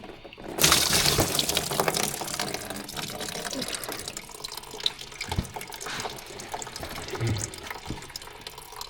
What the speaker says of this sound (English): Nasty, moldy, oily water.